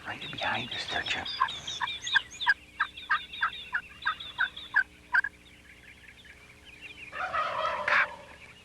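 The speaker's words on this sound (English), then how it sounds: "Those turkeys are right behind us there, Jim." Wild turkeys gobbling close by, a rapid run of rattling gobble bursts in quick rhythm followed by another loud gobble near the end, with hushed whispering from people nearby.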